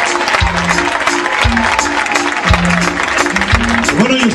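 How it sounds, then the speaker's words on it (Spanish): Audience applause at a live concert in Palencia, a steady wash of clapping mixed with loud, thumping stage music throughout. "Un fuerte aplauso para Pepe."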